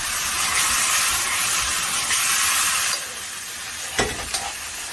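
Ingredients for jjamppong stir-fry in a wok with loud, continuous sizzling and hissing, then a few clanks from the wok and utensil near the end, close and without talk.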